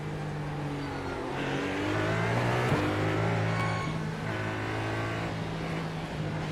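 A hypercar engine in a racing video game at the Belle Isle circuit holds a steady, droning note under throttle, swelling and dipping slightly as the throttle is modulated, close and continuous with no talk.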